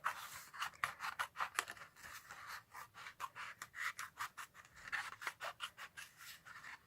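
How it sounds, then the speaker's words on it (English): Pointed craft scissors snip loosely around a card shape, a close, quiet run of rapid rhythmic cuts with soft paper rasping between blade closures. "take a pointy pair of scissors, and as I said, just go round loosely and just cut it out like this first"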